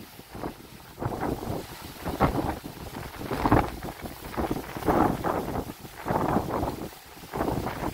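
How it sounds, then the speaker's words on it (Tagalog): Strong gusty typhoon wind on a mountain buffets the microphone in loud, rolling surges, roaring and dropping back repeatedly. "Tinutulak ako ng hangin ah. Lakas ng hangin."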